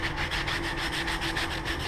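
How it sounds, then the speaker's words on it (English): Used sandpaper rubbing across a foam surface in a woodshop, a steady run of close, rhythmic scraping strokes that keep going without a pause. "what you're going to want to do is sand the surface with the abrasive"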